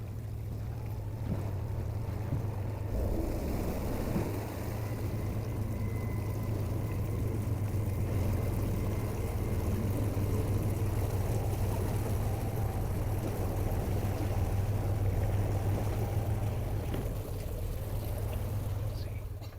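A steady low engine drone runs throughout with water and wind noise over it, a boat motoring along at a constant pace on a lake in the Lake District.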